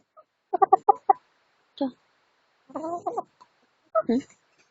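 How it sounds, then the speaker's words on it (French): Several short bursts of hen clucking come in quick clusters with pauses between, close by and fairly clear, with no talking over them. "pour vous présenter mes poules"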